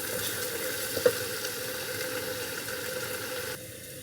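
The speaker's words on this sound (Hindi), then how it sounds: "अब इसको मैं अच्छी तरह भून के फिर इसके अंदर मैं मूली डाल के इसको रख देती हूँ पकने के लिए" Spices with garam masala frying in a pan for kofta pulao, a steady soft sizzle with a single light clink of stirring early on, then the sound drops to a quieter hiss.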